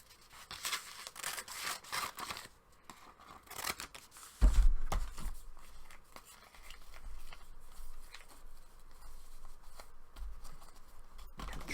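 Scissors snipping and trimming a fabric patch for mending holes in jeans, a run of close, crisp cuts, with soft rustling of cloth and a thump partway through.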